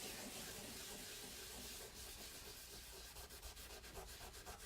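A board rubbed by hand to strip material away: a steady, close, continuous scraping hiss that turns into quicker back-and-forth strokes near the end, with no voices.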